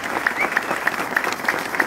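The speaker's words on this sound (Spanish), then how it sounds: "Yo les pido un fuerte aplauso para el mejor candidato de este municipio." A crowd at a municipal campaign launch rally in Jiquipilco applauds the candidate, with brisk, loud clapping and a few sharper claps standing out in quick rhythm.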